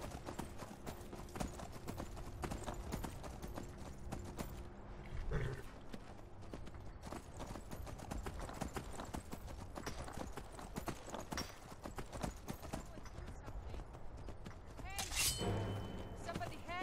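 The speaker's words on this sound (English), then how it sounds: "I'm going to be taking this horse now." A horse's hooves clip-clop steadily through the video game Skyrim under quiet background game sounds, with a brief whinny-like noise partway through; fairly faint overall.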